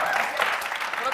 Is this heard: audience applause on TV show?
yes